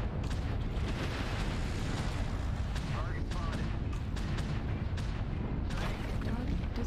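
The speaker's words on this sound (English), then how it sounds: "I see explosions." Continuous rumbling blasts and weapon fire in the MechWarrior Online game, dense booming explosions and rapid gunfire layered into a heavy, constant low roar, with a voice talking over the action.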